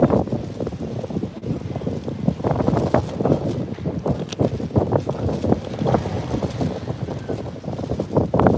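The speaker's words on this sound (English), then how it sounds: "it's really windy now" Strong gusty wind buffets the microphone outdoors, a loud continuous roar with rumbling surges throughout, no voices.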